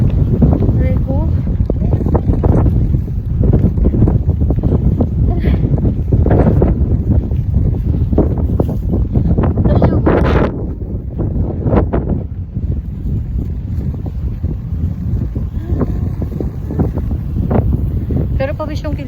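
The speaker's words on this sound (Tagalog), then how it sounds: "Lakas kasi ng hangin guys." Strong wind buffets the microphone with constant loud rumbling noise outdoors on a street, while people talk and laugh over it throughout.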